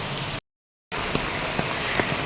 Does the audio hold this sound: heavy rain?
yes